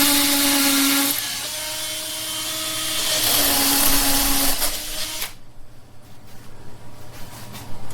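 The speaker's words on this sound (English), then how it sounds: "So we've got to drill into the concrete." A power drill bores into concrete under a sink during installation of an iSpring reverse osmosis filter system, a loud steady whine with pitch dips for about five seconds before stopping, leaving quieter handling noises.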